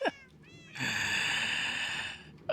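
A cat in the Minecraft video game meows, with a short meow at the start, a long bright drawn-out cry in the middle and another brief meow at the end, loud and close.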